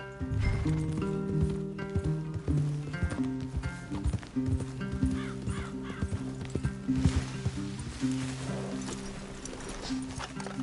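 Horses in the Red Dead Redemption 2 game: steady clip-clop hoofbeats and several whinnies over a sustained musical score, close and moderately loud throughout.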